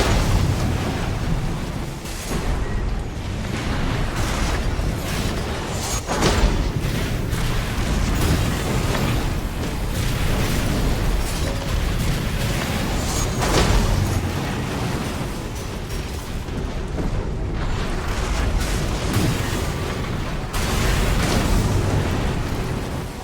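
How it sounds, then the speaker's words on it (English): Reactor core explosion in Armored Core VI: Fires of Rubicon, a sustained, loud, rumbling blast with deep booming bursts and crackling debris rolling on for over twenty seconds with no speech. "Destroy it, and the resulting overload will cause the reactor core to explode."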